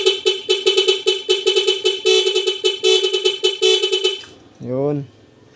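A truck's musical horn plays a fast, rhythmic run of bright repeated honking notes, loud and close, then ends with a single rising tonal sweep.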